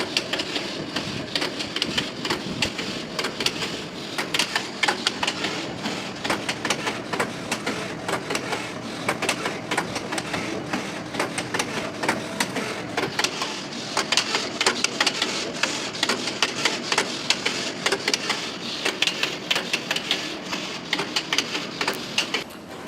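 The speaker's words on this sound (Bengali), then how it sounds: "আপনারা সবাই দেখছেন সোয়েটার নিটিং ফ্ল্যাট মেশিন" A flat knitting machine producing sweater parts such as collars runs with a steady mechanical clatter of dense rhythmic clicks and rattles, carrying on at an even level throughout.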